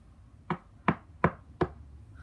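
Four evenly spaced knocks sound on a door, sharp and fairly faint, with no voices in between.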